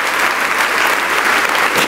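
A congregation applauding during a church service, a dense, steady burst of many hands clapping together that stays loud and close throughout the short stretch, with no voices standing out.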